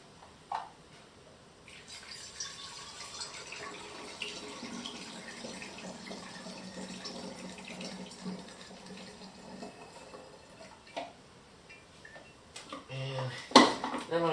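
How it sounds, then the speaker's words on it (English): Water running from a sink tap into a film developing tank during E6 processing, a steady rushing flow with clinks of plastic and metal and a sharper knock near the end, at moderate volume. "I'm going to fill up the tank out of the water in the sink"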